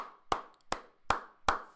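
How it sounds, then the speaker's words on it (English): Four sharp hand claps at a slow, steady beat, close and distinct with brief gaps, given as a welcome for a graphic designer at a Shabbat night talk. "give him the hand clap"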